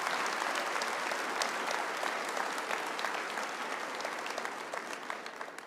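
A church congregation at a sermon applauds in a thick, crackling wash of many hands that holds strong throughout, then begins to ease off near the end, with no voices over it.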